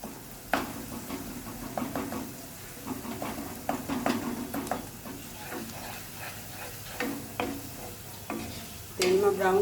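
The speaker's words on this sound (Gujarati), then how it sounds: "તેને આપણે બધાને તેલમાં સાતરી દઈશું।" Chili and garlic paste fries in hot oil, sizzling steadily while a utensil stirs and knocks against the pan in repeated scrapes and taps, close and clear with no talking.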